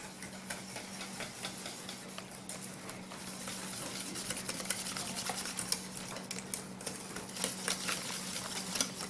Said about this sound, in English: I'll take a whisk and kind of smooth it out